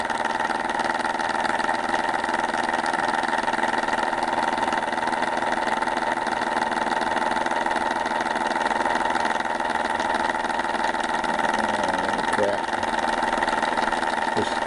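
An Orbo / Ben Thomas magnet motor running steadily at about 600 RPM, giving a constant, loud mechanical hum and whir that holds even throughout with no pauses.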